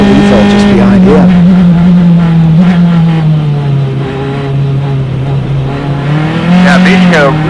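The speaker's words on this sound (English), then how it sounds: "Mishko really pushing hard here, sliding the tires around and spinning up the rear end over the top of the hill here at 5" A race car pushes hard over a hilltop at Mid-Ohio during an SCCA Pro qualifying sprint, its engine a loud sustained drone sliding slowly in pitch before rising again, with someone commentating over it throughout.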